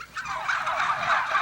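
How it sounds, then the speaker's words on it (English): A turkey gobbles loudly and close, a single rapid warbling call rolling on for over a second with nothing else around it. "If you talk turkey, turkeys talk back."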